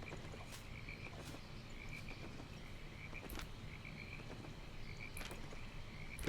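Frogs croak repeatedly in a video game's swampy outdoor area, a chorus of rhythmic ribbits at a moderate distance over a faint ambient bed, with no speech.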